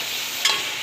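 Meat frying in a pan, a loud, steady, close hiss with one brief stirring scrape partway through.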